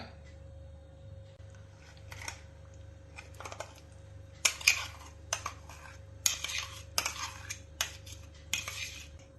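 A spoon scrapes and clinks against a bowl as a blended chikoo smoothie is transferred, with a run of sharp close taps and knocks after a quieter opening.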